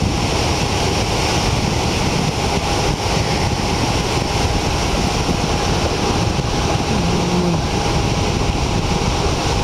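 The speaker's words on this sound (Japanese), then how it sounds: "十分 遊べる波は入っていますね。" Ocean surf breaking at Sendai Newport beach under onshore wind, a steady loud wash of waves mixed with gusty wind buffeting the microphone throughout, with no voices.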